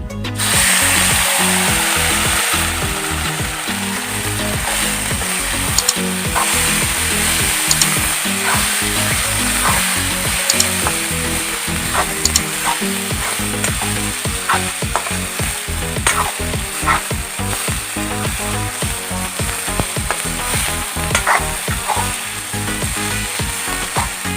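Fenugreek seeds, finely ground potatoes and bamboo shoot fry in leftover fish-frying oil, a loud steady sizzle with rapid crackling and repeated clinks of stirring throughout, no voices.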